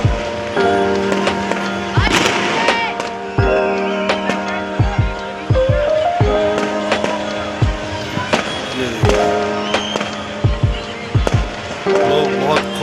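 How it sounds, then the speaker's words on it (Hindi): Independence Day fireworks in India, heard from a distance as a series of sharp pops and bangs at irregular intervals, with a constant hum of background noise underneath. "ये देखिए कितनी दूर मेरे घर से आतिशबाजी हो रही है"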